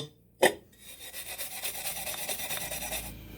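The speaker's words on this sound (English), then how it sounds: "So I'll have to sand that a little bit." Sanding on a lawn mower tire rim, a steady raspy rubbing stroke repeated closely after a sharp knock, continuous and fairly loud up close with no talk.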